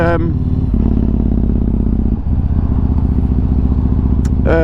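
A motorcycle engine rumbles steadily while riding at a constant pace, with a brief dip in the middle and occasional rough crackles. Loud, close engine sound dominates throughout.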